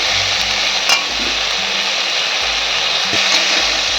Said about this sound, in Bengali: আমটা দিয়ে ভালো করে আমি নাড়বো আবার কিছুক্ষণ ভেজে নেবো